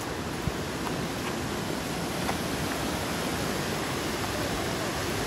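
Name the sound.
large river flowing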